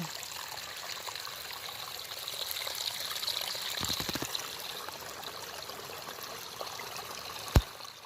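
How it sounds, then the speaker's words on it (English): Water trickling from a small active mountain spring in West Virginia woods, a steady close babble and dribble running throughout, with a brief knock near the end. "Found a pretty nice little active mountain spring."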